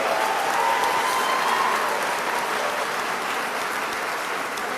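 A large crowd at a state governor's address applauds in a steady, sustained wash of clapping that fills the hall evenly from start to finish, with no speech over it.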